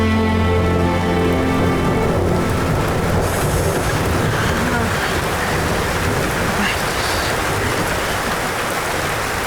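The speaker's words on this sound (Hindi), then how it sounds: "बड़ी बारिश हो रही है" Heavy rain pours down in a steady, dense roar that holds unbroken throughout, loud and close, with no talking.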